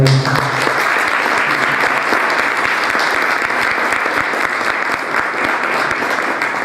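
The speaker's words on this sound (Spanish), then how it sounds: "Un aplauso para él." An audience greets a biomedical engineering speaker at a formal academic panel with loud, sustained applause, dense clapping that stays strong and even from start to finish.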